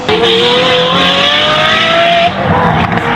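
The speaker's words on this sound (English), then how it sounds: "what gives this car that sound? On the back of the car, there's a tri-tip exhaust." Supercar with a tri-tip exhaust revs hard and loud close by, with a rising high-pitched engine whine that holds and then drops away near the end.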